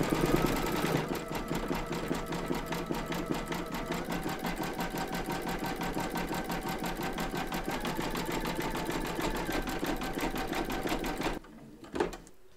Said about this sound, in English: We're now going to stitch round number 6, and that's going to do the satin stitching.